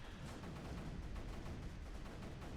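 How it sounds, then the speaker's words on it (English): Cannons in the strategy game Creeper World 3 fire in a rapid, continuous crackling volley, faint and steady throughout with no talk over it. "We want our cannons to be cannoning"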